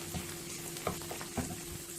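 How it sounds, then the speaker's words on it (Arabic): Taro cubes fry in oil in a pan, giving a faint, steady sizzle and crackle under a low hum, with a few soft scrapes and clinks as they are stirred. "وهنفضل نقلب فيه لحد لما كله يبقى لونه غامق"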